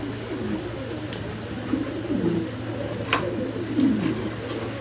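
Fancy big-size pigeons coo steadily in a pen, a low rolling murmur with a few sharper bursts over a constant low hum and background noise.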